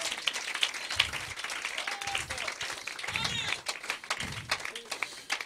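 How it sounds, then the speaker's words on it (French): A church congregation at a French-language service applauds steadily, a dense wash of clapping with a preacher's voice and low bursts of sound rising over it. "Donnez-lui de puissantes mains d'acclamation"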